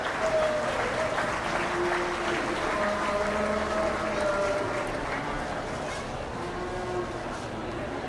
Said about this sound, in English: Let's give them all a round of applause as we bring these 4 back